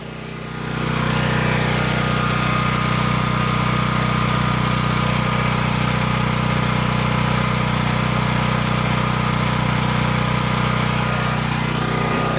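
A Champion dual fuel generator runs under a heater load, holding a loud, steady engine drone close by without bogging down for the whole stretch after it rises in the first second, with no talking.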